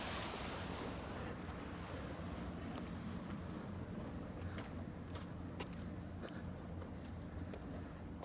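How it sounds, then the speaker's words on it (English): Ocean surf washes against the rocks along the shore at Whytecliff Park near Horseshoe Bay, a continuous broad roar with wind buffeting the microphone and a few sharper splashes, quiet and heard from a distance. "There's the ocean hitting the rocks there."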